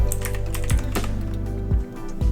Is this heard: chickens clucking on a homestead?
no